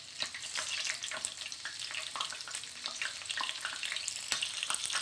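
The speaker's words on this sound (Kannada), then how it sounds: "ಈ ಥರ ಹಸಿಮೆಣ್ಸಿನ್ಕಾಯಿನ ಫ್ರೈ ಮಾಡ್ಕೊಳ್ಳಿ" Green chillies frying in hot oil for a paneer 65 garnish, a steady crackling sizzle with sharp pops and spits throughout, close and fairly loud with no voices.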